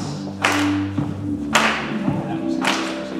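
Hand claps ring out during a cha-cha line dance: three sharp, loud claps spaced about a second apart, each standing out over steady dance music.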